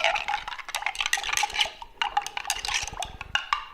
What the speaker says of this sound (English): I'm actually going to stir this a little bit more.